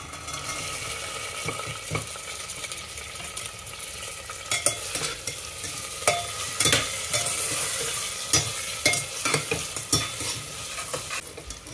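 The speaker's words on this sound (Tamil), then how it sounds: "இப்போ நம்ம பட்டாணி போட்டுடலாம்." Green peas tossed into a pan and stirred while frying for matar pulao, with a soft steady sizzle broken by repeated scraping and clacking strokes of a spoon against the pan.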